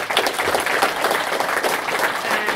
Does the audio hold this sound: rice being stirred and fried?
no